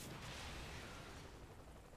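A blast throws the player characters into the air in the video game Saints Row 3, a dense rumbling roar that slowly fades over two seconds, with no voices.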